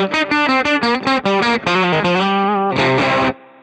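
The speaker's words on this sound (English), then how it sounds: "What's great about this low gain sound is you pretty much just put it on, you get that nice edgy with a little bit of dirtiness on the top tone." Electric guitar through a Baby Blue OD low-gain overdrive pedal, a bright, slightly gritty run of quick picked notes followed by sustained chords, ending on a short fade; loud and close, no talking.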